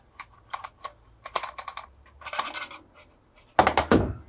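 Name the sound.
ball bearing clicking on flats of foam lance valve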